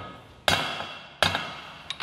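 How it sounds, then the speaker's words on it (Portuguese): Two sharp metallic hammer strikes ring out about a second apart, each decaying quickly, followed by a lighter tap near the end. "Essa martelada técnica aí que vale"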